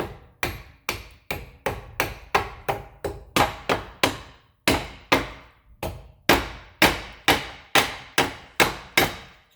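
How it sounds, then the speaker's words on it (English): Sharp, ringing hammer blows strike metal during brake work on a 2013 Hyundai Santa Fe, in a steady, rapid rhythm, each hit loud and close with a short metallic decay. "Just hammer it through"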